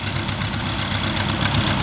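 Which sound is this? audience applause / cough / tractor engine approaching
tractor engine approaching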